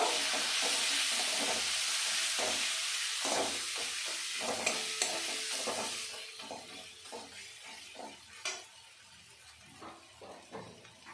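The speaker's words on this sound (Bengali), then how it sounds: "একটু লঙ্কার গুঁড়ো দিয়ে আমি ভালো করে মশলাটা কষিয়ে নেব" A spice paste with cumin and chili powder frying in oil, a loud hissing sizzle for several seconds that fades down to quieter bubbling, punctuated by close, irregular scrapes of a spatula stirring the pan.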